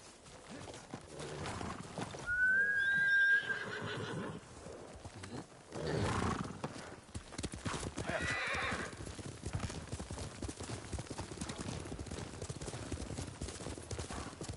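A horse in the Ghost of Tsushima video game whinnies sharply and its hooves clip-clop steadily, alongside game ambience and a few soft thuds.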